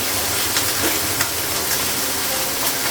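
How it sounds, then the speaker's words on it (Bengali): Eggplant and beans frying with five-spice in hot oil in a home kitchen. A loud, steady sizzle runs close up for the whole stretch, with no talking. "তেলটা গরম হয়ে গেছে, পাঁচফোড়ন দেবো, বেগুন আর শিমটা লাগানো"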